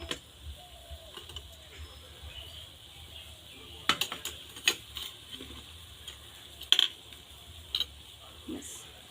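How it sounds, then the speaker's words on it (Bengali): Bowls being set one by one on a stand inside a steamer pot, giving a few sharp clinks and knocks of metal and crockery over a quiet background hum. "এইভাবে একটা স্ট্যান্ড দিয়ে দেব একে একে বাটিটা বসিয়ে দেব"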